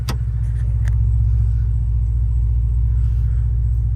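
Ford Bronco with the 2.7L engine and a Flowmaster FlowFX exhaust, heard from inside with the windows down, a deep, loud, steady low rumble at idle with a brief sharp tick near the start.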